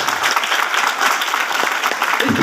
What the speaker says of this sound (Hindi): एक बार अपने लिए तालियां बजा लीजिए साहब